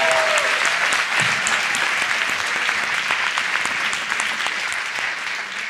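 An audience applauds in a podcast studio, with dense, continuous clapping that is loud and close, holding steady and tapering slightly toward the end, with no voices over it.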